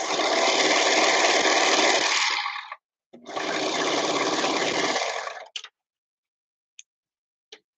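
A serger overlock machine stitches pant leg cuffs in two long, loud whirring runs separated by a short pause, followed by a few sharp clicks and quiet gaps.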